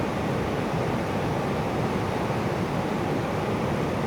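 Big-swell ocean waves break at Rincon in a loud, continuous roar of surf with a windy rush, with no voices.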